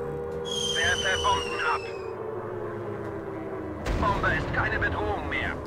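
Anti-aircraft guns fire in the WW1 flight combat VR game Warplanes WW1 Fighters, booming bursts rumbling under a voice and sustained game tones, with a sharper blast midway.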